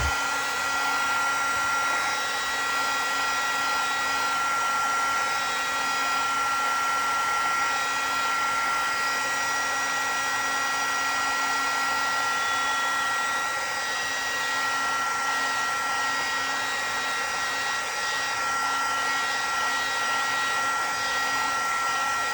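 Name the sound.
drying a mixed media tag with a hair dryer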